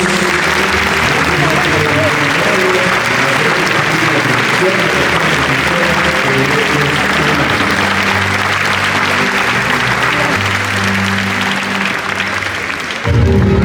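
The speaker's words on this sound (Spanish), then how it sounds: "Fuertes aplausos." Loud, sustained applause fills a large hall at the Palacio Nacional de la Cultura during a public policy launch event, with overlapping voices and music-like tones blended in and a sudden shift near the end.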